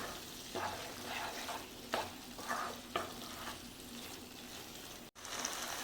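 Fried squid stirred into masala in a pan, crackling and sizzling steadily at close range, with a few louder stirring scrapes and a brief dropout near the end; no talking.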